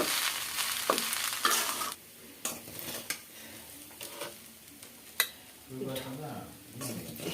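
Rice is stirred and turned in a hot pan, giving a steady sizzle with sharp clinks and scrapes from a utensil against the metal, louder in the first seconds and then broken into separate knocks.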